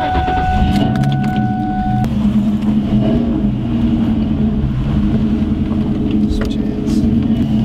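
Ford New Edge car driving with a damaged brake rotor, a steady low road rumble from inside the cabin with a few faint light clicks and rattles throughout.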